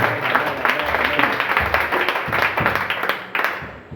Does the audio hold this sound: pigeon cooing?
no